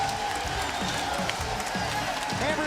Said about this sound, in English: This crowd is fired up, and they are Boston strong.